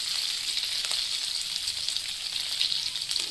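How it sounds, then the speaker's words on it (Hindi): Curry leaves and asafoetida frying in hot oil for a tomato chutney give a steady, bright sizzle with faint crackles throughout, close and continuous, with no talking. "करी पत्ता को भी हम थोड़ा सा भून लेंगे।"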